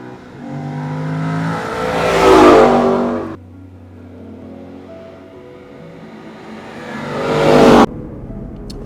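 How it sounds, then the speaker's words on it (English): Aston Martin V8 Vantage S engine revving hard on a winding Portuguese mountain road, two loud rising surges of V8 exhaust roar with a brief drop to a lower rumble between them, close and alone. "this V8 engine sounds utterly, utterly glorious, especially in a location like this"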